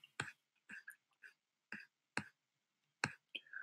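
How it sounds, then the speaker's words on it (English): A computer mouse clicking a cancel button in a WordPress settings screen: several faint, crisp clicks spaced unevenly, with soft breathy mouth noises between them in a quiet room. "So I'm going to click cancel on that"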